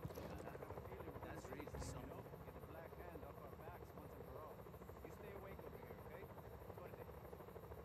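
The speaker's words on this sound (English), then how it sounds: "I'm watching these helicopters fight." Several helicopters fight in the game Just Cause 4, their rotors making a constant loud, buzzing drone throughout while a person talks over it.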